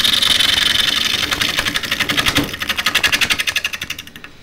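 A half-inch spindle gouge sweeps through an arc into the corner of a wooden bowl spinning on a lathe, giving a close, steady ripping hiss that turns into a rapid rhythmic chatter of pulses toward the end.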